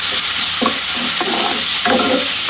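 Boiled gourd peels hit a hot pan and sizzle steadily, with a loud continuous frying hiss and a few stirring scrapes, close up and with no talk.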